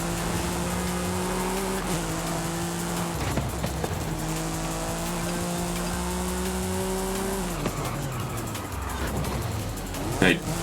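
A Toyota Prius drives in Forza Horizon 5, its engine holding a steady droning tone that shifts pitch with the throttle, then drops as the car brakes, with tire squeal and a voice talking over it.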